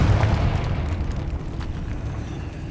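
A Confringo fire spell explosion in the video game Hogwarts Legacy: a single deep, rumbling boom that rolls and slowly decays over a couple of seconds, heard on its own.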